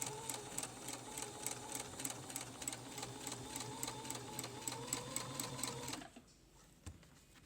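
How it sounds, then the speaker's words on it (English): A sewing machine stitches down the folded edge of a prayer quilt in a fast, even needle rhythm that runs steadily for about six seconds and then stops abruptly, leaving a couple of faint taps. "just start sewing down the edge of your fold there, all the way down to the end of the prayer quilt"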